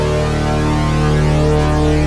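Opening of a song, a dense, loud, steady wall of abrasive sustained tones and droning bass, heard alone without talk.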